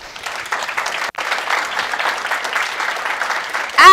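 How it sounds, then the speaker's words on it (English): Audience applause at a gaming convention event, a full continuous burst of clapping lasting about four seconds at steady strength, cut off abruptly at the end. "so we want to give a round of applause to them."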